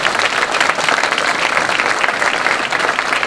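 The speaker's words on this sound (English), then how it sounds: "Let's give the special master a round of applause." Dense, steady audience applause at a 9/11 Victims Compensation Fund town hall meeting, honoring the special master, loud and continuous throughout.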